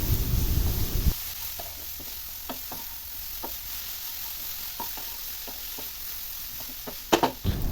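Beetroot stir fry with chili and salt crackles in a pan while a spoon stirs it, sharp scraping ticks spaced irregularly over a low steady sizzle, with a louder burst at the start and near the end.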